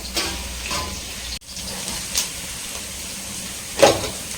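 Onion, cabbage and spring onion sauté in a pan for paneer vegetable fried rice, a low continuous sizzle with occasional stirring scrapes and one louder clatter near the end, close with no speech.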